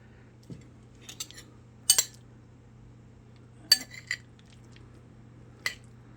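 A metal spoon scoops creamy crab rangoon filling from a dish, giving a few faint, scattered clinks and scrapes against the dish over an otherwise quiet background.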